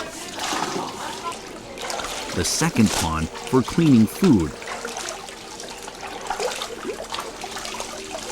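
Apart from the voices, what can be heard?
spring water flowing between ponds in Lijiang old town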